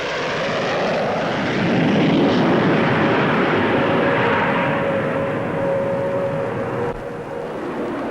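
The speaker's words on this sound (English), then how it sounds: "Now another Delta, the Gloucester Javelin." A Gloster Javelin delta-wing fighter with twin Armstrong-Siddeley Sapphire jet engines flies past at an air show, a loud, steady broadband roar that swells and then eases slightly, with no one talking.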